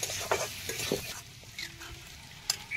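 Chicken pieces and cut potatoes fry in a pan, giving a soft sizzle broken by irregular scrapes and clinks of a spatula stirring against the metal, fairly quiet and close, with no talking.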